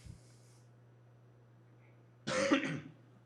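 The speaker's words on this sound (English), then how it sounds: "the cough still isn't completely gone" A single cough or throat clearing from a lecturer getting over a cold, one short harsh burst in a quiet room after a long near-silent stretch.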